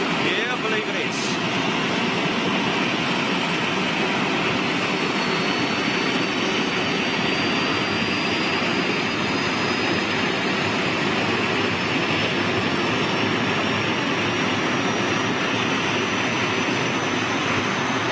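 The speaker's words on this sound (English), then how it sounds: "the APU or the ice packs actually started on board the aircraft" Steady broadband whine and roar of an auxiliary power unit running aboard a large jet airliner, constant and fairly loud for the whole stretch, with a faint rising tone and people talking underneath.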